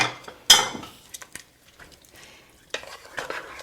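A spoon stirs lentil artichoke stew seasoned with cayenne in a metal pot, with a sharp clank against the rim followed by scattered scraping and knocking strokes, close and fairly quiet.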